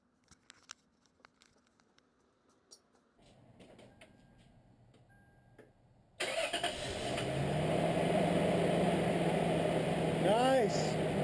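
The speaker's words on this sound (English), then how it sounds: "We're gonna crank it over and hopefully this engine starts for us." A Toyota 3.4 L V6 5VZ-FE engine, just fitted with a new valve cover gasket, cranks briefly and then catches, settling into a steady loud idle after a few faint clicks and a quiet hum.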